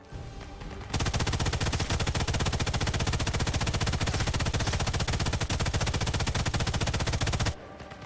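Rapid machine-gun covering fire in a video game, one long unbroken burst of dense, evenly spaced shots that lasts about six and a half seconds, loud and close, with no talk.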